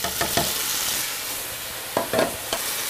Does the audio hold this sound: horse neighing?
no